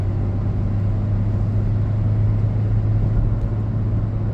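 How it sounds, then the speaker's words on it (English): Vauxhall Corsa D stuck in limp mode with revs capped near 3,000, giving a steady, loud, droning engine hum inside the cabin, constant and unchanging with no voices. "I can feel the car go into limp mode"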